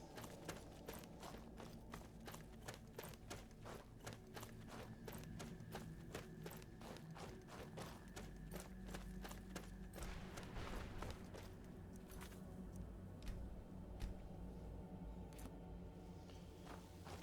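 Horse hooves clip-clopping in Skyrim, a quick, steady train of sharp knocks under a soft ambient bed, faint and continuous throughout.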